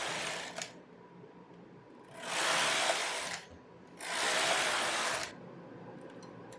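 A domestic knitting machine carriage sweeping across the needle bed while knitting rows, two loud whooshing, rattling passes of about a second each separated by quieter pauses with small clicks.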